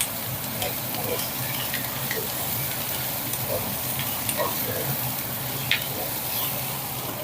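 Peppers fry in a pan of Portuguese-style chicken gizzards, hissing under a steady sizzle while a utensil stirs them, with occasional light scraping clicks.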